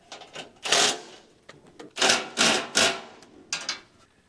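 Steel roofing deflector being bolted onto a hay mower: a few short, loud metallic knocks and rattles close by, in uneven bursts with brief pauses between them.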